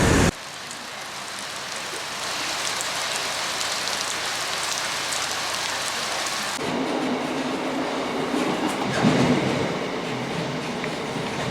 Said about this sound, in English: Luckily we didn't have long to wait for that train at all.